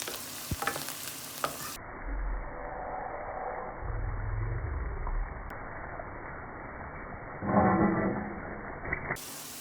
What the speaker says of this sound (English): I'm going to add 1 teaspoon of garlic. I'm going to fry again.